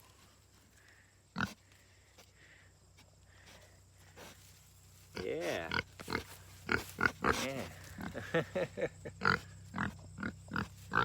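A pig grunts repeatedly up close, in short snorting bursts that grow busier, while a person murmurs quietly in between.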